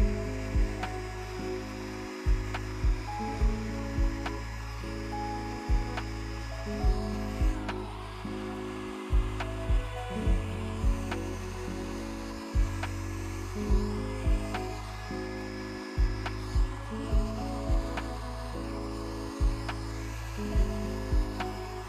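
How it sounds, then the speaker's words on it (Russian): A hair dryer blowing liquid acrylic paint for fluid art hums steadily, switching off and on in short bursts with brief pauses, close and moderately loud, no voices. "Берем фен и снова раздуваем."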